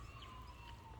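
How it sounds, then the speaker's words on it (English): Faint distant ambulance or police siren, a thin steady wail barely above low background hum, brief and continuous. "Now all we ever hear is an ambulance or police sirens."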